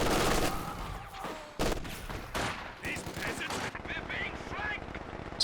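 Machine gun fire in Company of Heroes 2 crackles in rapid bursts amid dense battle noise, with loud broadband blasts early and later scattered shots and small ringing impacts; a voice talks underneath.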